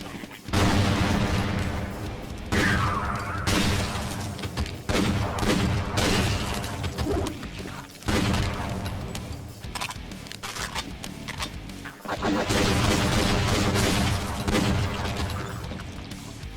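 Repeated rapid gunfire from dual-wielded Desert Eagle pistols in the Brutal Half-Life mod, loud dense bursts of shots filling the stretch with only brief gaps between volleys.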